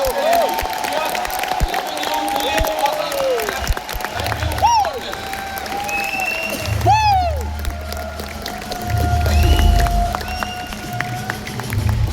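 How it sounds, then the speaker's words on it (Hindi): Audience applause at a seminar hall event, ongoing clapping mixed with crowd noise, with sliding whistle-like tones and low rumbling bursts running through it. "एक जोरदार ताली ऊपर वाले के लिए भी"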